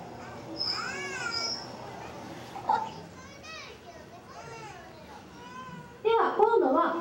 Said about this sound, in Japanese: 今いろんな音が聞こえてきていますが、これも全部白イルカたちの鳴き声なんですよ。